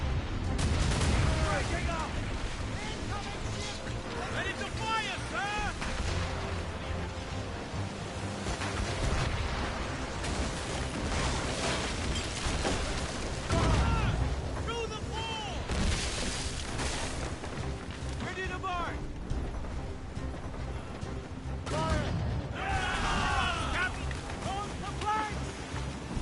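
Ship cannons in Assassin's Creed Rogue fire through a naval battle as repeated deep booms. They roll under constant shouting voices, music and crashing sea noise.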